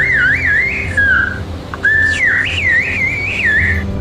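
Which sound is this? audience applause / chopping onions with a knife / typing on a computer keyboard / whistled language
whistled language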